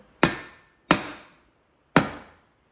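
Three sharp, solid thunks as a hubcap is tapped onto a wheel, evenly spaced with a short ringing decay after each, close by and with no talking.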